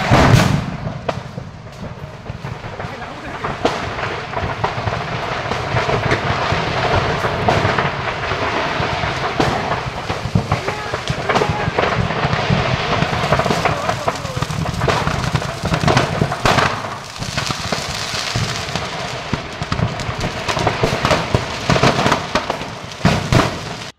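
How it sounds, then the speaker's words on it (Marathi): Firecrackers explode inside a burning firecracker warehouse at Shindegaon, Nashik Road, making a dense, continuous roar of crackles and bangs that stays loud for the whole span with no voices. "आग लागताच फटाक्यांना त्याची झळ लागली."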